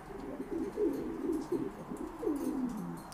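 Caged pigeons coo in soft, repeated low warbling phrases, fairly close but quiet, over faint background noise with no talking.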